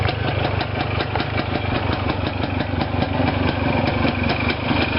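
Small engine running steadily just after reassembly and starting, a close, loud, even idle with a rapid rhythmic chug throughout and no talking.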